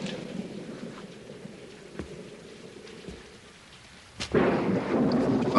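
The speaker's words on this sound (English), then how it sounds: "Oh, God, how it rained." Steady rain patters with rumbles of thunder, then a sudden heavier downpour surges in near the end, loud and close.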